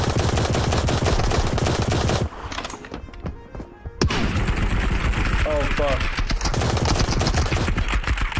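Shotgun fire in the sci-fi shooter Marauders, loud dense bursts of gunfire filling most of the stretch with a brief quieter gap in the middle, mixed with other game noise and voices.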